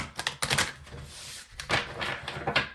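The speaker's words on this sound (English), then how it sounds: "I'm just gonna shuffle one time on this one." A small deck of tarot cards gets a single quick shuffle, with light papery riffles, flicks and soft taps close by at a table, and no voices.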